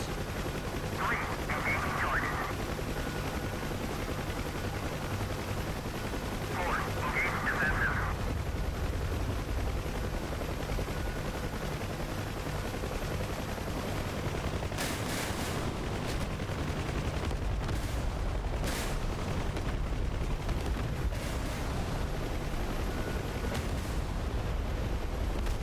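UH-1H Huey helicopter in DCS World firing rockets at an anti-aircraft position, with a constant rotor and engine drone throughout and a cluster of sharp rocket launches and impacts breaking through in the second half.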